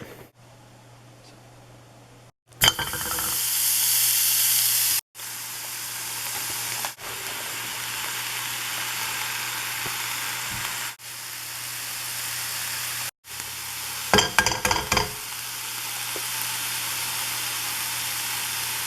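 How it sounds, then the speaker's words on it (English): Protein searing in a hot pan, with loud steady sizzling and hissing in several bursts separated by brief silent cuts, plus a louder spitting crackle near the end. "all you have to do is really season it over the pan while you're cooking it"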